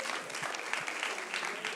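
Audience clapping at a stand-up comedy show, a brief, steady patter of applause filling the room at moderate volume.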